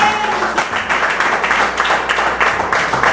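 A church congregation applauding together, a dense, steady patter of many hands clapping close by for a few seconds.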